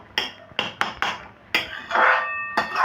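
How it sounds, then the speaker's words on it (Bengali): Metal lid lifted off a pot of boiling tomatoes for a date and mango-leather chutney, with several sharp clinks and knocks followed by a soft rushing bubble, close and alone. "আমি একটু এটা সরিয়ে দেখি যে টমেটোটা কদ্দূর সেদ্ধ হলো"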